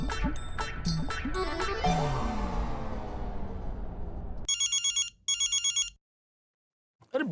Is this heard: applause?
no